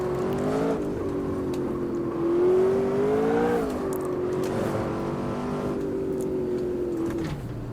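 Race car engine droning steadily in the Automobilista 2 racing game while the car drifts, pitch wavering up and down with throttle changes and a brief rise midway, loud and continuous with no talk.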